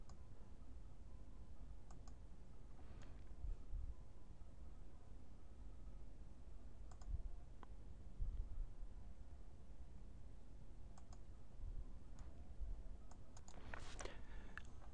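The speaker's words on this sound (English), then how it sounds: "I can click on the Show Formulas button and we'll see this." Mouse clicks at a computer while working in an Excel spreadsheet: sparse, faint, sharp clicks spaced irregularly over a steady low background hiss, with no talking.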